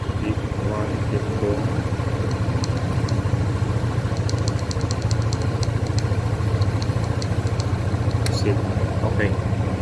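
A Bristol QJ Motor ATR 160 big-bike scooter engine runs in P1 mode, giving a steady low idling rumble throughout while someone talks over it.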